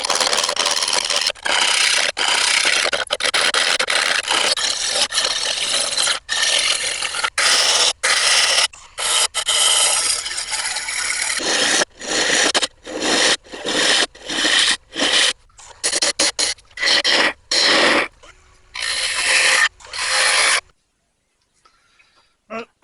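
A bowl blank cut from a branch spins on a wood lathe while a gouge turns it to shape, giving a rough, scraping cut in repeated bursts broken by short pauses, fading to quiet at the end.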